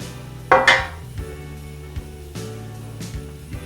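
Sealed biscuit dough bombs stuffed with leftover holiday ham go into a metal baking pan, giving two close clinks and clatters of metal followed by softer scattered taps, with no talking.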